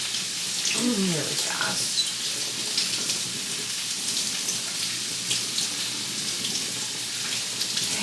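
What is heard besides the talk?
tap water rinsing fruit in the sink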